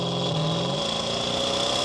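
Toyota Supra and Dodge Charger accelerating in a rolling drag race, a loud, steady engine roar with a constant whine and a low rumble, close and continuous, without talk.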